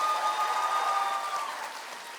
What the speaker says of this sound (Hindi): भैया इस पे ताली बहुत जोरदार चाहिए